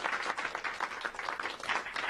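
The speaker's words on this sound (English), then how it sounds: "They're applauding." A mission control team applauds in a steady, dense burst of clapping that fills the room, close and fairly loud throughout.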